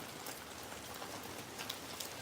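Light rain patters softly and evenly on surfaces outdoors, a faint, continuous hiss with a few scattered drips.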